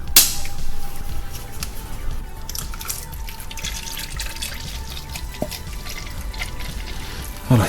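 Hydraulic oil drains from the mechatronic unit of a VAG DSG7 DQ200 dry-clutch gearbox, a steady close trickle with a faint ringing tone and occasional drips, no talking.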